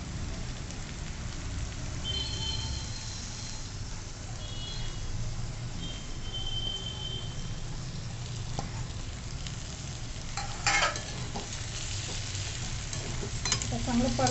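Boiled potato chunks, some partly smashed, sautéing in a pan for a festive vegetarian thali, a steady soft sizzle with occasional scraping stirs and a few clinks near the end.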